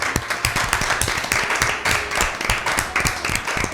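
Audience applause for both teams at an Easter special Bible quiz, a dense run of many hands clapping close by, with brisk irregular slaps filling the whole moment.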